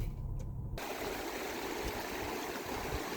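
A river rushes past a roadside pull-off between Gunnison and Lake City, Colorado, a steady, loud, broadband flowing roar that fills the clip after a brief muffled start, with no voices.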